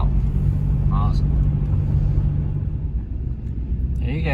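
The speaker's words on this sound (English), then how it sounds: "There's like 100 Amazon Prime trucks going out." Big delivery trucks pull out in a steady procession, a continuous low engine rumble with road noise close by, and brief voices come and go over it.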